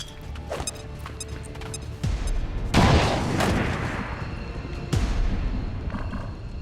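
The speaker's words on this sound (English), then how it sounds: "Or, actually, we can just grenade him." A grenade detonates in the XCOM 2: War of the Chosen strategy game, a loud broadband blast with a crashing tail amid a busy stretch of explosive impacts and bangs, with no talking.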